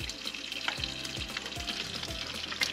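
Bacon sizzling and frying in a pan at a campsite, a steady close crackle with a few stirring scrapes and no talk.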